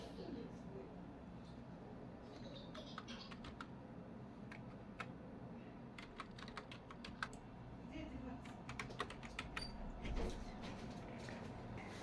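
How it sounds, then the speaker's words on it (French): Someone types a login and password on a computer keyboard, with scattered quiet key clicks that grow denser and sharper toward the end over low room noise. "Je vais tout simplement entrer mon login que j'ai créé tout à l'heure et mon mot de passe pour ouvrir ma session."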